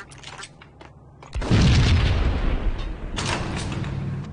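A heavy bomb blast booms out in Max Payne, a sudden loud explosion followed by a long rumbling, crackling tail that fades slowly.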